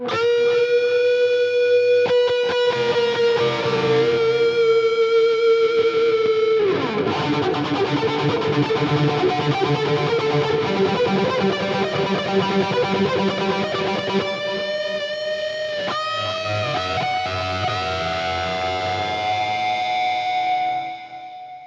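Sustained high-gain distorted electric guitar through an amp plugin rings out with chorus, delay and reverb, holding long notes and chords that swell and trail off over a steady, effect-laden tone.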